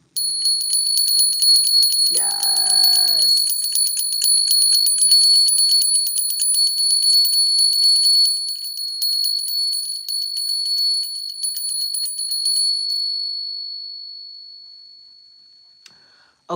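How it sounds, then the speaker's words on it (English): A single struck bell rings out loud and sustained, its bright tone slowly decaying over many seconds, with one brief spoken word early on. "I'm going to ring the bell."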